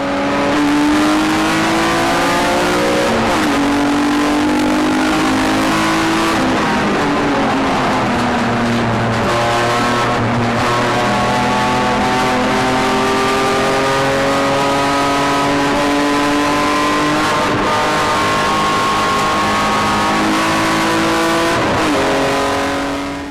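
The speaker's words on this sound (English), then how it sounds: "let's have an onboard perspective from Paul Watson, starting in third position on the grid in his Class B M3" Onboard a Class B BMW M3 race car at Mallory Park, the engine screams loud and close throughout, climbing through revs with repeated upshifts and brief lifts, alone without talk.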